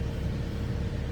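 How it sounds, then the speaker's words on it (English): A black truck passing on a hot day in West Palm Beach gives a brief, steady low engine rumble, fairly quiet and close, with no talking. "There went one truck, a black truck."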